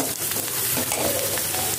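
Dried chili and turmeric leaves sizzle hard in hot oil in a frying pan, a dense, steady crackle throughout with faint stirring and no voices.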